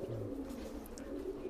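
Imported Pakistani pigeons give a soft, low coo up close, a brief murmuring call, faint and unaccompanied by talk.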